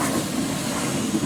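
Steam locomotive number 25 Northiam stands at Bodiam station on a heritage railway, giving off a steady, close, broadband hiss of steam throughout the short clip with no talking.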